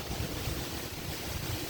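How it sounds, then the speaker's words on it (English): Strong wind roars outdoors, a steady, loud broadband rush with heavy low buffeting against the microphone throughout and no voices. "it is so windy out here. There's so much noise."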